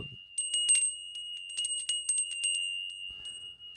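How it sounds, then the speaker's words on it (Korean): A bright bell rings as a sound effect, sounding as a quick run of rapid, ringing strikes with a sustained metallic tone that fades out. "이럴 때 깨달음의 종소리가 나와야지"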